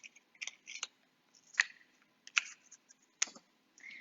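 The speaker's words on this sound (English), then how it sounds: "So I'm just gonna cut it right down the middle." Scissors cut a toilet paper roll in half, giving a series of close, crisp snips and crunches in irregular bursts with quiet gaps between them.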